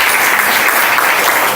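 A church congregation applauds, loud and close, a thick, continuous roar of many hands clapping at once with no gaps.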